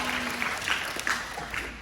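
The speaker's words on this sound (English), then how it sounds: "Give him a clap." Applause from a small group, steady scattered clapping for about two seconds with no voices over it.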